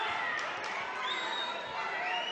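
Crowd at a 2010 senior ABA amateur boxing final cheering and roaring in a hall, a broad sustained wash of noise with whistles rising above it, fairly loud and distant.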